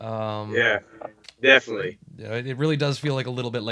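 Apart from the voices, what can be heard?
No distinct noise like a dog, phone or traffic.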